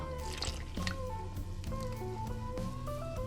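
Almond milk poured into a bowl of flaxseed mix for berry pancake batter, a soft close trickle and gurgle of liquid over a few seconds, quiet and without talk.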